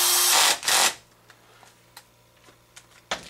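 A power tool drives screws into the clutch of an HPI Baja 5B RC car, two short loud whirring bursts up close, followed by faint scattered clicks and taps.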